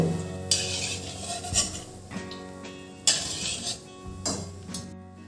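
Fried coconut slices lifted out of a pan of hot oil with a metal spoon, giving repeated scrapes and clinks of metal on the pan in an uneven rhythm, fairly close and moderately loud.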